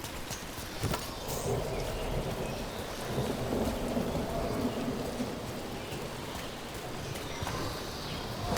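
Steady heavy rain pours down with rolling thunder rumbling beneath it in the Dragon Age video game, a dense, continuous storm bed without talk.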